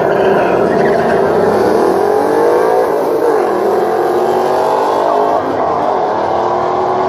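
A Subaru car at a night drag race makes a loud, continuous engine roar with rising revs, close and dominant, while voices talk underneath.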